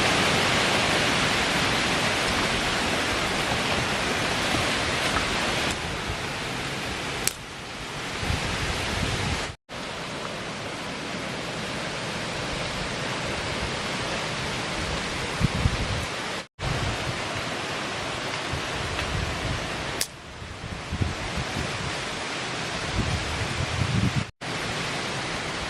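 Strong wind blows outdoors at a mountain campsite while a shelter is being built. It is a loud, continuous roaring rush that lasts throughout, with a few abrupt cuts.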